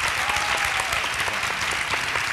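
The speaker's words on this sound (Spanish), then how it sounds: "por favor, un aplauso para ellos" Audience applause for the Aragonese Goya-nominated filmmakers, a dense steady patter of many hands clapping throughout, fairly close and filling the room.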